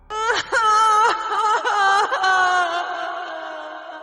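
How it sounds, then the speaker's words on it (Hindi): A woman cries in a series of drawn-out, high wailing sobs, breaking off between breaths before trailing into a long, fading moan. "कोई औरत रो रही थी"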